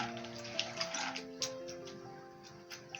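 Gentle splashing and small taps of something being washed in water, soft and close, with irregular light clinks throughout.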